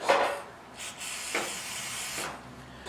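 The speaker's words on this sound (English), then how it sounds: "all I'm doing is spraying that with our powder solvent" Several short aerosol sprays of powder solvent hiss up close onto revolver parts, separated by brief pauses, with faint handling noises between bursts.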